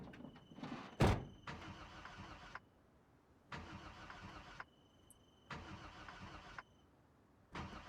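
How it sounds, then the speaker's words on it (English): Car engine starting in the game Project Zomboid: a loud click then repeated cranking bursts, about four separate attempts spaced a second or so apart, with quiet gaps between them and no talking. "I could definitely use a better engine."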